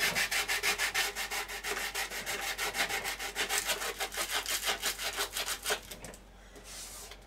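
Steady back-and-forth rasp of 80-grit sandpaper rubbed by hand over wood, a quick rhythmic scrubbing that stops near the end.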